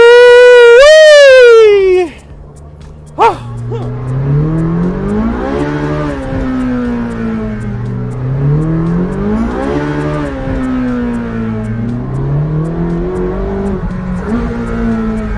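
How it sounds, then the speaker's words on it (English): A loud Ferrari 458 Speciale or Porsche 911 GT3 RS engine roars and revs hard, rising and falling in pitch repeatedly as it accelerates, close and dominant throughout. "This car is loud, amazing."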